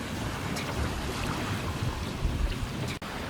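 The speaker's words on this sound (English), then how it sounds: "The wind's about nearly 20 knots actually behind us, and seas are pretty big actually." Steady wind rushes over a sailboat running before nearly 20 knots of following breeze in big seas off Cape Capricorn, a continuous broadband roar with buffeting microphone gusts and no talk.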